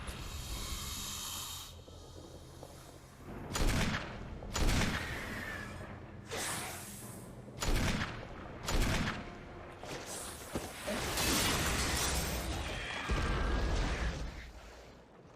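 A grenade launcher in the video game Resident Evil fires a series of heavy, booming blasts spaced about a second apart, each loud and sharp, with game ambience rumbling between them.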